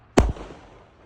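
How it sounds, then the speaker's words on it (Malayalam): A single loud, sharp firecracker bang at a wedding celebration held at a flat, close by, with a quick decaying echo afterward and no voices. "കല്യാണത്തിൻ്റെ ഭാഗമായിട്ടുള്ള പടക്കപ്പൊട്ടിക്കലാണ്."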